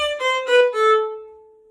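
A single C natural note on a violin, sounded in two or three bowed pulses and then held as a steady, clear tone that fades away, played alone.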